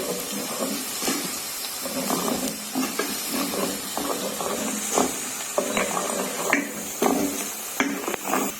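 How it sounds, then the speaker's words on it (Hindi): Garlic sizzling in a hot pan for a chicken Manchurian dish, a steady frying hiss with scattered crackles and spits throughout, close and moderately loud. "लहसुन डालने के बाद इसको अच्छे से मिक्स करूंगी। और इसे थोड़ा सा भून लूंगी।"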